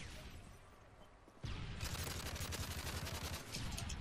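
Rapid UMP45 submachine gun fire in Call of Duty, starting after a quieter moment and turning into dense, sustained bursts of close shots that rattle on without pause to the end.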